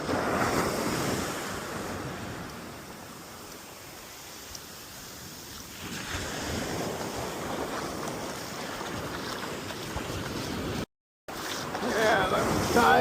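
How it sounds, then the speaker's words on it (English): Ocean waves rolling in and breaking on Coronado beach as the tide comes in: a steady, loud wash of surf with wind buffeting the microphone, swelling again in the second half. "This is where some of the big waves come in. The loud ones."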